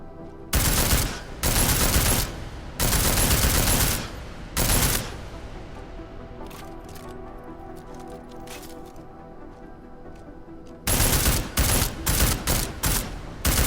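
Automatic gunfire hits an armored target in the video game Deus Ex: Mankind Divided, long loud sustained bursts separated by quieter gaps with faint mechanical clicks, a final burst stuttering at the end.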